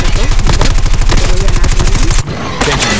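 Rapid bursts of video game gunfire, loud and close, firing in quick repeated volleys before briefly cutting off and resuming.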